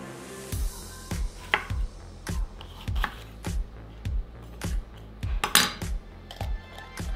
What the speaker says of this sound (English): And now we're gonna cut up a couple of onions.